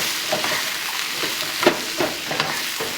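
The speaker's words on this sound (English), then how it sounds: "Stir it nicely." Chopped okra and potatoes sizzle in spiced oil in a pan over medium-high heat, with a few soft scraping stirs, steady frying hiss and no voices.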